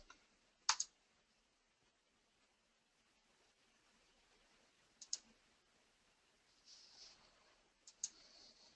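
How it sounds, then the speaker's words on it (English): Computer mouse clicks while working in SAP Business One, a few faint, sharp isolated clicks spaced seconds apart in an otherwise quiet room, with no speech. "So with that checked, I'm going to click Add"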